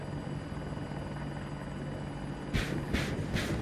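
An Apache attack helicopter in Battlefield 2042 drones with a steady rotor hum, and near the end three bursts of its gun firing come in quick succession on top of it.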